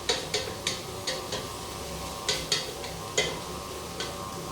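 Garlic and onions brown in a pan for lentil soup, with a faint steady sizzle under a series of crisp, evenly spaced clicks and scrapes from a utensil working the pan, close up.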